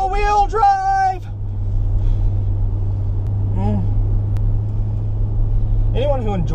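A Range Rover L322 with all-wheel drive and air suspension travels a damp back road toward sharp corners, giving a steady, low engine and road drone. Voices talk over it at the start and near the end.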